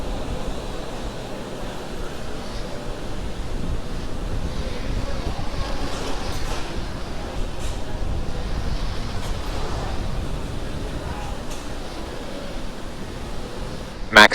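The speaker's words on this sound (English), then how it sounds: "the 9 Merlin 1D engines Mach going 1. back to full power, and we are now supersonic" Falcon 9 rocket with nine Merlin 1D engines climbing through the supersonic phase of a launch from the Cape, heard as a steady, distant broadband roar with wind-like rumble and crackle that holds continuously throughout.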